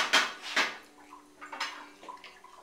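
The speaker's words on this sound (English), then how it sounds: "somebody is doing dishes" Dishes and cutlery clatter at a kitchen sink during washing: two sharp clinks up close, then softer knocks and scrapes with water sounds, fairly quiet, no talking.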